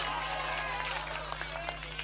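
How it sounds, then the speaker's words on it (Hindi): An audience at a mushaira poetry gathering claps, a faint, continuous patter of many hands over a low electrical hum, with some talk mixed in. "जोरदार तालियां बजाकर मुझे इजाजत दे दें"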